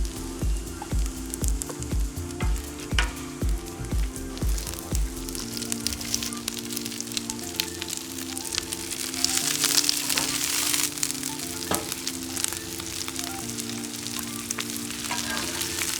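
Onions and zucchini sizzling on a Blackstone griddle, a dense close frying hiss with rhythmic spatula tapping and scraping at first, then a steady sizzle alone.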